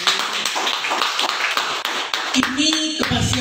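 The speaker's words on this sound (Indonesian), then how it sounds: "Boleh dong tepuk tangan buat kita." An audience at a traditional healthcare talk claps in a brisk, scattered burst that starts loud and thins out, while other noises come in near the end.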